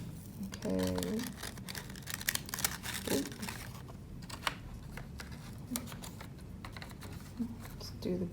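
Tape pulled and pressed onto a paper story cube during a craft, with short crinkly bursts of tape and paper handling close by, spread through the clip among quiet speech.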